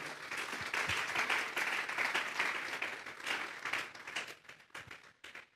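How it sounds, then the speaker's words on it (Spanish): A church congregation applauding during a sermon, a sustained round of dense hand clapping from many people that swells and then tapers off toward the end. "Vamos a darle una ofrenda de palmas a Dios en esta hora."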